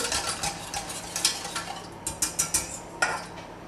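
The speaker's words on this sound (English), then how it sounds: "Add the sugar. Try and mix it all together." A utensil stirs sugar into chocolate soufflé batter in a bowl, with soft scraping swirls and a series of distinct clinks against the bowl's side, close and fairly quiet.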